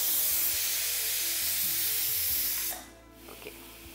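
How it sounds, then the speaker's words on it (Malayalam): A pressure cooker whistles in a loud, steady hiss while beef cooks on the stove, the blast holding for nearly three seconds before cutting off abruptly to a quieter background with faint clinks. "ചൂടോടെ ഏകദേശം മൂന്നാമത്തെ വിസിലിന് സമയമായി തോന്നുന്നു"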